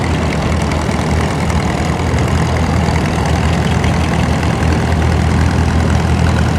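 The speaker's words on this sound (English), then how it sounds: "Next tractor is a 1939 Oliver 80 from Muncie, Pennsylvania." A 1939 Oliver 80 tractor engine idles steadily with a deep, loud, rumbling chug that holds constant throughout, with no voices.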